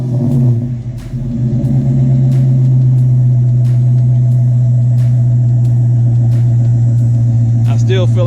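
A 2016 Ram Sport truck's engine and exhaust rev up close, rising into a loud, steady, throaty drone that holds with small fluctuations before dropping off near the end.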